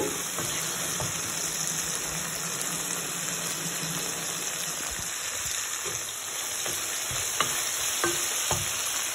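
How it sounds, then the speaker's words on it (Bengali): Onions sizzle in a pan as a spatula stirs them, a steady frying hiss broken by occasional scrapes and taps, with no talking. "পেঁয়াজটা ভাজা হয়ে গেছে।"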